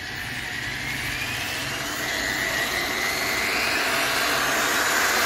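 An electric mixer runs inside a bucket or drum, giving a steady, loud motor whir that slowly rises in intensity and continues without pause.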